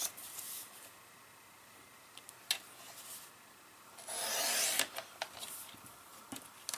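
Paper heart piece for a handmade card being trimmed, soft scratchy rubbing with a brief clicks and a louder rasping cut in the middle, close and quiet.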